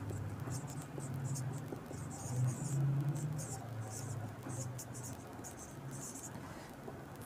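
Chalk or marker scratching on a board as a teacher writes out a column, soft irregular strokes and taps heard faintly under the teacher's quiet narration.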